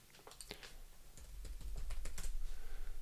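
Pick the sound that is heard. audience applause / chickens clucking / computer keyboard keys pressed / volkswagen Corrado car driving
computer keyboard keys pressed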